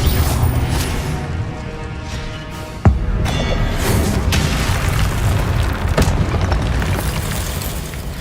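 Confringo fire-spell explosions in the video game Hogwarts Legacy, loud rumbling booms over a dense, continuous game soundscape, with one sharp burst standing out partway through.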